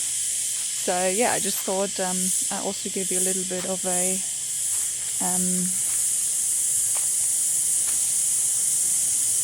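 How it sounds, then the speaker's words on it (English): Insects in the Australian bush make a steady, dense high-pitched buzzing and hiss that runs throughout. Someone talks briefly over it near the start before it carries on alone. "insects, bugs, everything is just showing off at the moment."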